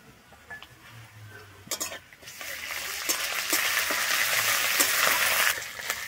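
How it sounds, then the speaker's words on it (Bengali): Ground ginger and garlic fry in a pan for palak paneer. A few metallic clinks from stirring come first, then a loud, close, sustained sizzle rises and holds, broken by more scrapes of a utensil. "আমার আদা রসুনটা এখানে কিন্তু খুব সুন্দর ভাজা হয়ে গেছে।"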